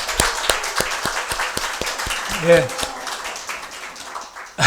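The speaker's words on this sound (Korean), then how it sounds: "우리 박수 한번 해주십시오." Church congregation applause: a run of sharp, evenly paced hand claps that fill the room, with a man's brief spoken word and some voices mixed in near the middle.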